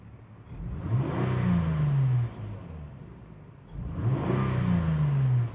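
The engine of a Lexus GS300 with an oxygen sensor heater circuit fault revs up twice, each swell rising from idle and falling back, moderately loud and heard alone.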